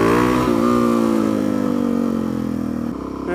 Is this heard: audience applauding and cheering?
no